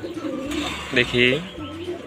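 Pigeons coo in a brief burst from a rooftop loft where young chicks have hatched, heard close under a person's speech.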